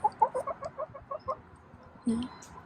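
Hens cluck close by in a quick run of short repeated calls, followed by a longer, lower call near the end, with no talk.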